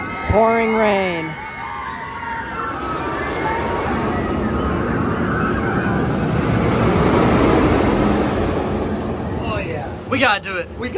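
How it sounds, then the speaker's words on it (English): Heavy rain pours down at Cedar Point amusement park as a steady, loud broadband roar lasting several seconds, with a voice speaking briefly before it and more voices near the end. "Pouring rain."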